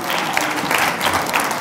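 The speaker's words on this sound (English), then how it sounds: "Give a clap offering to the Lord." A church congregation claps together as an offering to the Lord during a worship service, a dense, steady burst of many hands that fills the room for a couple of seconds.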